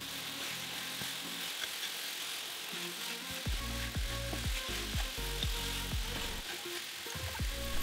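Broccoli dropped into a pan of fried chicken meat sets off a steady sizzle, with clattering pan-and-utensil knocks joining midway and continuing irregularly.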